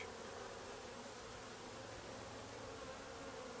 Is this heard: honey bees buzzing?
yes